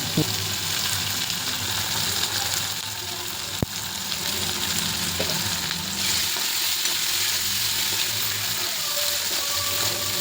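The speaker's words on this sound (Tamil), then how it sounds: "உப்பு சேர்த்து வதக்கும் போது சீக்கிரமாகவே வெங்காயம் வதங்கி வந்துடும்." Onions with salt sautéing in a pan for a kovakkai gravy, a continuous close frying sizzle with occasional stirring scrapes and one sharp utensil tap.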